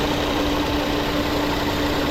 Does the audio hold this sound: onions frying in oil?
no